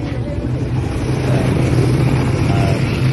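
Motorized tricycle engine running steadily while riding, a continuous low droning rumble with road noise that holds at a fairly loud level throughout.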